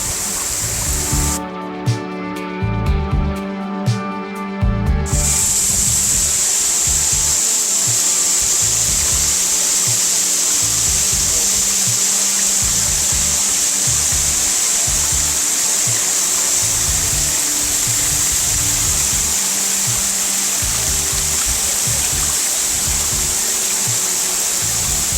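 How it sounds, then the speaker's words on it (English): Cascade Falls in Ouray, Colorado, pours over rocks in a steady, loud broadband rush of falling water, close by and continuous, with a brief scraping clatter near the start. "I'm getting splashed by the falls"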